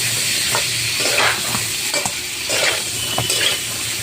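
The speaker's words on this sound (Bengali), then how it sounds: "এখন এই পটল লাল লাল করে ভেজে নেব।" Loud continuous sizzling of pointed gourd frying in a pan, with repeated scraping stir strokes of a spatula throughout.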